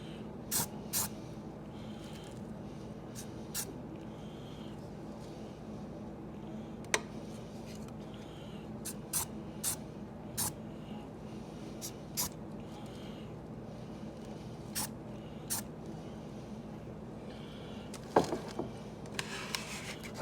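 Spray paint from a rattle can hisses over a stencil cut from a pizza box, with soft background hiss punctuated by a dozen or so short sharp spurts and ticks at irregular intervals, fairly close.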